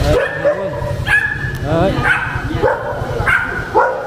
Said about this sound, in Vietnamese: Có một con chó cảnh này, con chó bốp này, giống con chó nhà dưới nhà mình nhá.